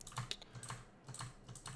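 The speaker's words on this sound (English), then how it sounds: "I don't know why I'm fat-fingering the keyboard like that." Rapid, uneven keystrokes on a computer keyboard while playing the roguelike Dungeon Crawl Stone Soup, close and clear, a dozen or so clicks in irregular bursts with no voice.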